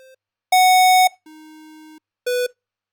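Synthesized oscillator notes, pure and electronic with rich harmonics, play one after another in bach with velocity envelopes, each tone at a different pitch and loudness and separated by short silences.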